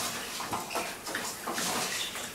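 Plain water pours into a pot of rice on the stove, a close, bubbling splash that keeps going and surges in uneven waves.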